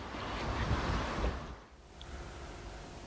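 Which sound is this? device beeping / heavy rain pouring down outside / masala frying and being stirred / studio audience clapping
heavy rain pouring down outside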